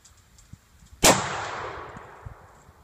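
A single sharp, loud sniper rifle shot cracks out in a video game, followed by a long fading tail of echo and rumble, with faint small clicks before and after.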